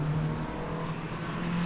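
Honda engine in a drift car running steadily, a close, constant droning hum with no clear surge in pitch, heard alone without voices.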